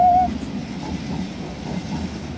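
An ICM intercity train at Den Haag Centraal station produces a steady low rail rumble with a brief high wheel squeal at the start, heard without talk.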